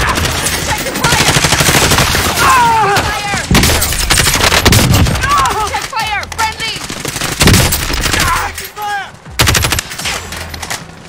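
Rapid automatic gunfire and bursts of shots from a Call of Duty Warzone match crackle loudly and almost continuously, mixed with game effects, while players shout over the shooting.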